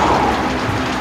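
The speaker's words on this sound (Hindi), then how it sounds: "फिर ये बारिश भी हो गई" Steady, dense rainfall pours down without pause, a loud continuous hiss of drops on surfaces, close and unbroken, with no voices.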